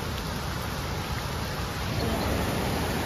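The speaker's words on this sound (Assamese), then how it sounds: "বৰষুণ অকণ জোৰকৈ দিছে আৰু বহুত তিতি থকা হৈছে" Heavy rain pours around Anini as a dense, even hiss of falling water fills the whole stretch at a steady, moderate loudness with no one speaking.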